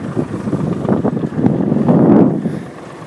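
An Evinrude 115 HO G2 two-stroke outboard motor runs on a boat out on the water, a steady low engine drone mixed with wind buffeting the microphone.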